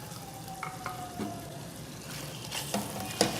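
Mutton curry being stirred in a pan after salt, green chilies and coriander go in, a steady low sizzle with a few soft scraping strokes of the spoon, close and fairly quiet.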